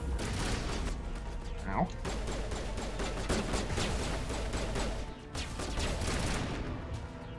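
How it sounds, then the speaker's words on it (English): Rapid gunfire from an assault rifle with three-round burst in a video game crackles densely throughout, with a brief voice exclamation partway through. "She has a 3-round burst and her assault rifle"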